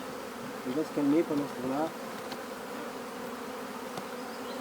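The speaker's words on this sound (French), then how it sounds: "il y a une partie d'abeilles qui viennent, qui sortent de la ruche, qui se mettent sur la façade de l'entrée" Honeybees at a hive entrance produce a steady low buzzing drone, with someone speaking briefly over it early on.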